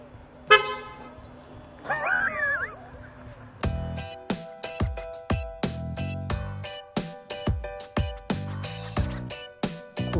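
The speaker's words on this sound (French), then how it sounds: "le klaxon" A Tesla Model S P85D car horn honks repeatedly in short, rhythmic musical toots, loud and close, after a brief noisy start.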